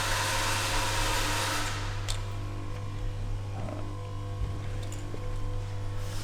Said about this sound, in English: Apologise for the grinding in the background